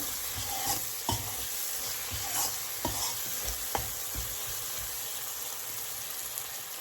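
Spices and salt stirred into hot oil in a pan for a chicken curry: a steady close sizzle broken by several sharp spoon scrapes and knocks, no speech.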